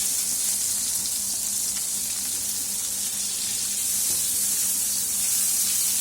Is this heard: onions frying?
yes